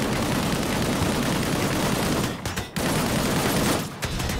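Rapid, sustained gunfire from a primary weapon in the shooter game Disintegration, loud and close, with two brief pauses between bursts.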